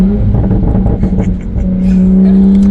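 Tuned Toyota A90 Supra engine heard from inside the car, a steady loud droning hum with turbo whoosh and rising revs, continuous and close throughout.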